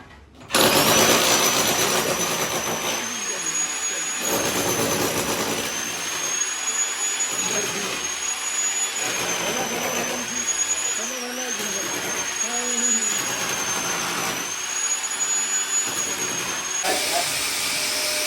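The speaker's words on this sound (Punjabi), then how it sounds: "ਵੈਕਿਊਮ ਕਲੀਨਰ ਦਾ ਘਟਾ ਖਿੱਚਣ ਡਿਆ" A vacuum cleaner runs loudly and steadily with a high whine and airy hiss, while voices talk intermittently underneath.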